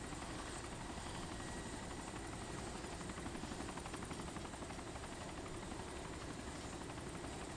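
Helicopter in the video game DayZ Epoch, a steady loud rotor whir and engine roar filling the whole stretch without pause.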